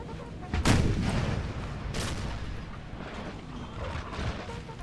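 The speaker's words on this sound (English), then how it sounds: "we have got artillery set up on this hill here as well, 5-pounder" 5-pounder artillery firing from a hill in a Napoleon Total War multiplayer battle: two heavy booming cannon shots a little over a second apart, followed by rumbling battle noise and distant crackle.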